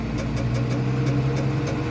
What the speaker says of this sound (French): Donc je vais mettre un peu de gaz